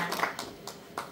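Scattered, light clapping from a small audience in a performance hall at a welfare forum in Dongducheon, a few sparse claps in quick bursts, fairly faint and not building into full applause.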